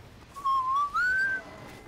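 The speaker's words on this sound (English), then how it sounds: "it's called a whistle" A clear whistled tune in the video game Team Fortress 2, two sustained rising and falling phrases sounding loud and close with a brief gap between them.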